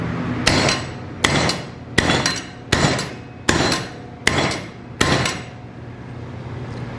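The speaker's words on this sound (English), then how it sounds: "I want to bang on it with my sledgehammer." Seven heavy sledgehammer blows ring out against a welded steel piece clamped in a vise, evenly spaced under a second apart, each a loud metallic clang with a bright decaying ring.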